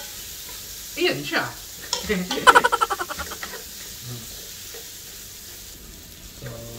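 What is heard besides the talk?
potatoes frying in a pan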